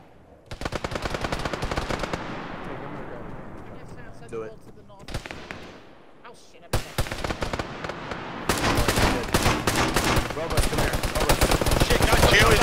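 Heavy Arma 3 gunfire around a hotel, with dense bursts of automatic fire and sharp rifle shots cracking near and loud, pausing briefly before resuming in a rapid, sustained volley.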